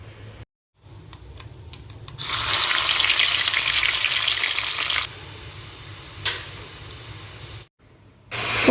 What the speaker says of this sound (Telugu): నెక్స్ట్ ఆవాలు, జీలకర్ర, వెల్లుల్లిపాయలు అయితే వేసేసి పోపు అయితే పెట్టుకున్నాను